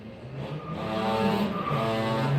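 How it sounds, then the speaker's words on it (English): Motorcycle engines drone and whine steadily as they pass at a distance in Las Vegas, Nevada, pitch shifting slightly, moderately loud with no voices. "You hear the motorcycles, Mike?"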